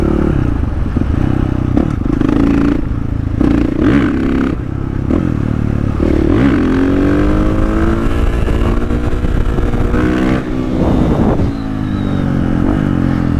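A 450 supermoto motorcycle revs and accelerates hard, close and loud, with rising and falling engine pitch through gear changes and brief gaps between pulls, plus some scraping and clatter.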